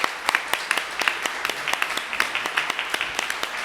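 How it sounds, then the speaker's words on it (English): A round of applause at a city council meeting: a modest group clapping, with distinct individual claps sounding throughout, fairly close and steady. "Yeah, big round of applause."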